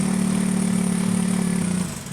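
A fuel-injected motorcycle idles steadily with the choke on while warming up, a loud, even, close-up engine drone that dips slightly in the last moments.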